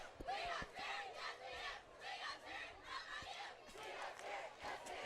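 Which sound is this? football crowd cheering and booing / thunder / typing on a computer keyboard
football crowd cheering and booing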